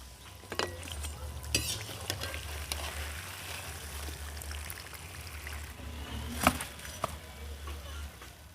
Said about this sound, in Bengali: তো একইভাবে সেকেন্ড ব্যাচটাও ভেজে নেব